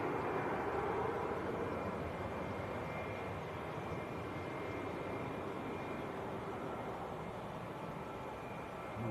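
KLM airliner taking off from Manchester Airport, a continuous roaring jet engine noise with a faint steady high whine, moderately loud and unbroken throughout, no voices.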